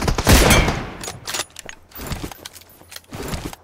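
Gunfire in a fast-paced shooting video game: a loud burst opens, followed by several quicker volleys of shots in rapid succession, close and sharp.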